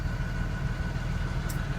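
A Cummins 5.9L diesel engine idles at about 1200 RPM, giving a steady low rumble with a constant hum and no change in pace over the short stretch.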